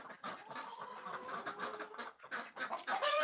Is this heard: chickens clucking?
yes